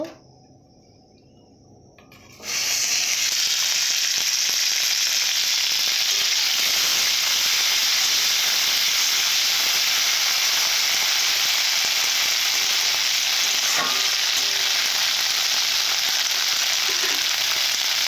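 Cut green beans hit hot oil in a pan, bursting into a loud, continuous sizzle after a quiet start, with a few faint stirring scrapes and no talking.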